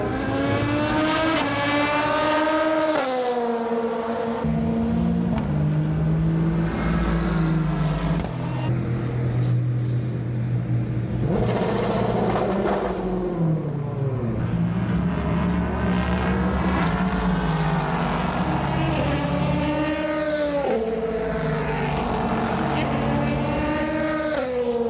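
Race cars roar past on track during European Le Mans Series free practice, engines rising and falling in pitch as they pass and shift, with someone talking over the continuous motor noise.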